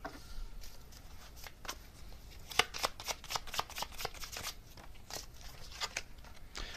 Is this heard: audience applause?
no